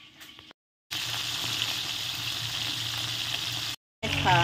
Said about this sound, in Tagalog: Habang piniprito natin yung tilapia